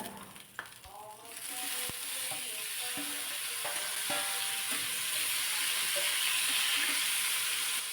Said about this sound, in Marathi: थोड्याशा भाजत आल्या की त्यामध्ये चिरून घेतलेला टोमॅटो घालायचा